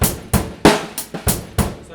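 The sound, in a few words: drum set groove with ghost notes on snare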